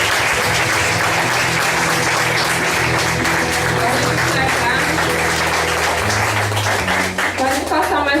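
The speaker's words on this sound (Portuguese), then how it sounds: "Vamos dar uma salva de palmas para as nossas convideiras." A large audience at a church youth camp's closing service gives sustained, loud applause, dense clapping continuing evenly for several seconds with faint voices underneath.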